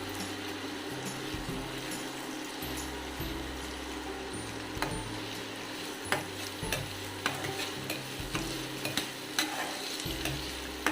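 Whole mustard seeds and cumin frying in hot oil in a wok, a steady close sizzle with scraping stir strokes and scattered sharp pops and crackles growing more frequent toward the end; no voices.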